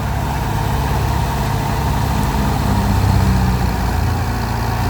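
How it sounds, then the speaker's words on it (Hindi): A tractor engine runs hard while driving a threshing machine, a loud, steady low diesel drone with a continuous rumbling hum and no talking. "तो ट्रैक्टर की रेस देखें"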